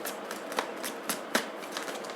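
Tarot cards being shuffled by hand during a reading, giving soft papery riffles and a few sharper flicks, close and fairly quiet, with no talking.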